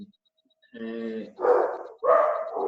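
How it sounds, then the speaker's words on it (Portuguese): Several household dogs barking in short loud bursts close by, with a higher yelping tone at first, interrupting a woman giving a spoken lesson. "desculpa os meus cachorros"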